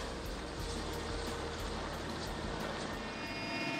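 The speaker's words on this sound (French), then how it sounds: "C'est à bord d'un hélicoptère de transport Mi-8 que nous rejoignons le camp de pêche au bord de la Varzuga." A Mi-8 transport helicopter in flight, heard from on board as a dense, constant rotor and turbine roar with a faint rhythmic blade pulse, steady and loud throughout.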